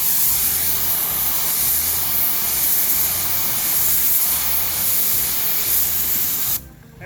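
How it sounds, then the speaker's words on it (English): A pressure washer blasts water in a steady, loud, close hiss for several seconds, cutting off abruptly near the end. "Let's go with a pressure washer."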